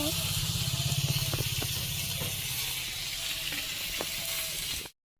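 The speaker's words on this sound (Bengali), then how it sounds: "তো মাংস রান্না হচ্ছে," Meat sizzles in a kadai in a home kitchen, a loud steady hiss of frying with intermittent sharp clinks and scrapes of a utensil, cutting off abruptly at the end.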